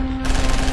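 Sustained machine-gun fire as a sound effect in a Hindi horror story about shooting at a tent, a loud, dense continuous burst that swells in after a fraction of a second.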